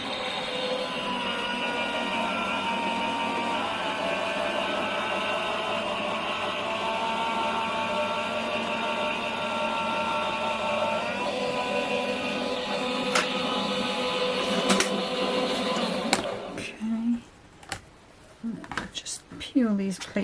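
A die-cutting and embossing machine rolls a sandwich of two plates, a stencil and a mat through, giving a steady mechanical hum for about fifteen seconds before ending in a few clicks and handling knocks.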